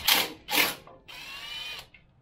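A 14 mm half-inch drive ratchet works on a motorcycle shock absorber bolt, two quick bursts of clicking followed by a longer whirring spin, close and fairly quiet.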